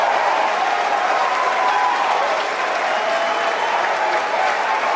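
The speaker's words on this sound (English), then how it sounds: "You can hear everyone is phenomenally excited here." Excited crowd at a SpaceX Falcon 9 launch and landing event cheering and applauding, a steady dense wash of clapping and shouts sustained throughout, moderately loud and close.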